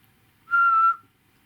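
Person whistling a single short, clear, steady note, isolated in an otherwise quiet room.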